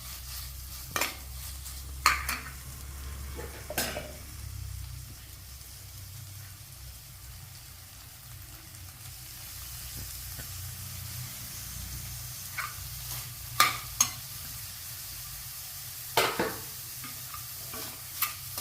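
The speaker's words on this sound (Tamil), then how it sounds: "ரெண்டு கேரட் சீவி வச்சுருக்கேன் அந்த ரெண்டு கேரட்டை இப்போ போட்டோம் எதுவும் போட்டு நல்லா வதங்கணும்" Grated carrots sauté in a pan with tomatoes for carrot and paneer biryani, a low steady sizzle broken by occasional sharp scrapes and clinks of a spoon stirring against the pan, no talk.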